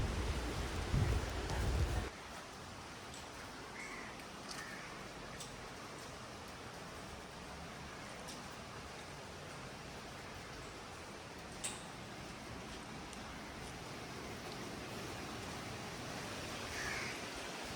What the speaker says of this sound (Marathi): आता बाहेर पाऊस पडतो आहे